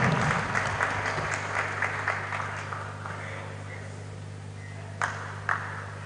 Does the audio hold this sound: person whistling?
no